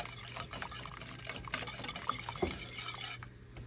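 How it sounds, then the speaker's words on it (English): Lemon cookie batter is stirred in a bowl, giving soft scraping and light clinking of a utensil against the bowl, close and fairly quiet, in irregular strokes over a few seconds. "I'm going to stir that around, give it a quick stir."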